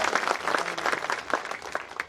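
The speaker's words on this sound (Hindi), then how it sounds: "एक बार उनके लिए तालियां बजाइए।" Audience applause at a Hindi poetry recital, a steady patter of many hands clapping for about two seconds, moderately close, with no talk over it.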